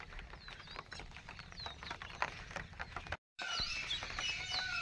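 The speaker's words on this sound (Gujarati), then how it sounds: "પંખીડાનો ઝીણો ઝીણો શોર કલશોર ક્યારેક ક્યારેક મોરલા બોલે" Many small birds chirp and twitter continuously around a village temple setting, with a dense chorus of thin calls close by and a brief silent gap near the end; no distinct peacock call stands out.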